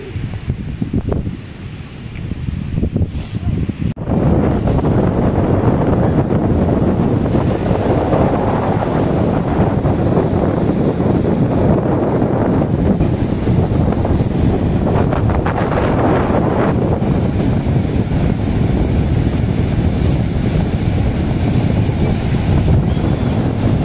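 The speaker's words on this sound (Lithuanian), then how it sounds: "Šiandien prie jūros labai vėjuota, tad mes sėdim kopose" Strong wind buffets the microphone in a steady, roaring rush, with a faint wash of surf underneath and no voices, on the dunes by the sea at Šventoji.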